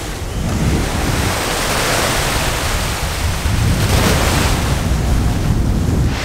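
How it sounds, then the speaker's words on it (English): Ocean surf rolls in steadily at Rockaway Beach in Queens, New York City, a continuous broad wash of breaking waves mixed with wind buffeting the microphone, with no voices. "This beach is impressive, especially by New York City standards."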